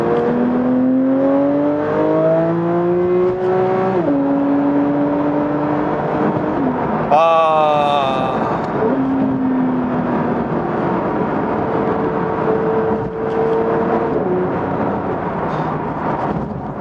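A Porsche 992 GT3 engine revs hard on a highway and climbs through gears, pitch rising then dropping at each shift, loud and close with steady road roar underneath.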